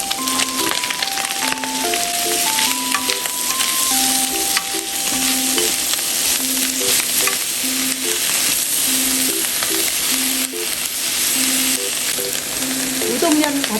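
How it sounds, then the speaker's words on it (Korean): Bacon and sliced vegetables stir-fried together in a pan for stir-fried udon, a steady loud sizzle with scraping and stirring throughout, with music playing underneath and a brief clatter near the end. "썰어준 야채 같이 넣고 볶아줄게요."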